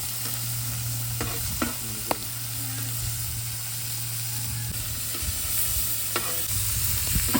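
Small gold stripe sardinella fish fry in a pan of hot oil in a village kitchen, a steady close sizzle broken by several sharp scraping stirs and clinks of the spatula.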